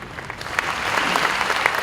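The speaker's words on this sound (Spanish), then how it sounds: "Con este aplauso cariñoso le damos una gracia al doctor Pedro Black da Silva" Steady applause from a roomful of people at a savings and loan congress panel, a dense patter of hand claps without talking, holding a fairly even level.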